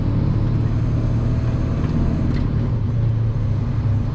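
A bus rumbles past on a street north of Marseille, a steady low engine drone with road noise holding level throughout, fairly close and without talk.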